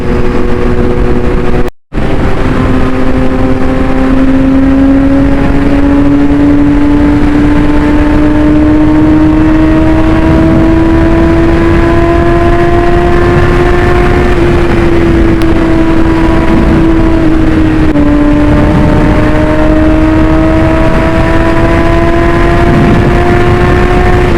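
Engine of a 2020 Yamaha R6 600cc sport motorcycle while riding, a loud steady drone with rising harmonic pitch as it gradually accelerates, briefly cut by a dropout near the start.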